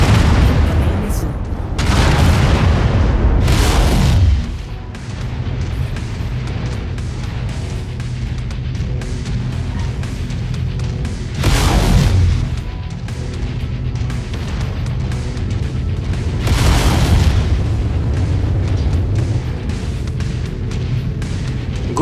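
Deep booming missile explosions in the Mechwarrior 5 Mercenaries video game, three or four heavy blasts rising out of a constant low rumble of combat, close and loud.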